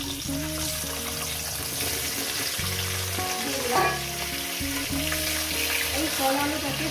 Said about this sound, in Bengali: কয়েক সেকেন্ড ভেজে নিয়েছি এরপর কি করব দিয়ে দেবো এখানে কলা আলু এইসব